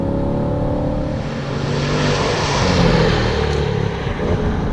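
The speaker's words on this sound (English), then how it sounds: "That's about a half throttle upshift." A Chevrolet C8 Corvette's 495-horsepower V8 runs under steady load, its sustained engine roar swelling slightly near the middle as the car pulls through a half-throttle upshift, heard from inside the cabin without talk.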